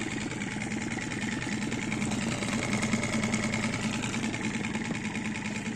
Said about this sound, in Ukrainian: моторчик Mercury шестерка, чотирьохтактний.